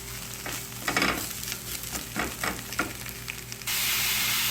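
Beef steak sizzling in a hot pan and being stirred, with several scraping strokes over a steady fry, close up; near the end a louder, continuous hiss takes over.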